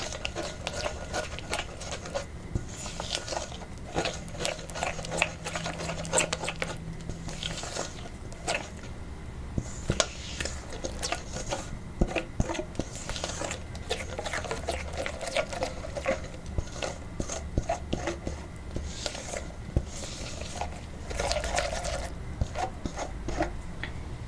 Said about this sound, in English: Just going to mix the almond butter and the chocolate.